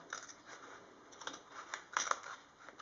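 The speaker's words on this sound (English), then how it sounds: "I need to trim. Scissors." Scissors trimming card stock while making an animated optical illusion card, a few quiet, close snips and crisp cutting clicks in short irregular bursts, with no talking.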